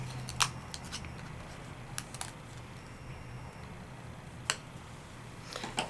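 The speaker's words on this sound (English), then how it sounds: "Now I'm gonna pop my die cut out." A paper die cut is popped out by hand, giving a few sharp, faint clicks and snaps spread unevenly over a quiet room background, close by, with no voices.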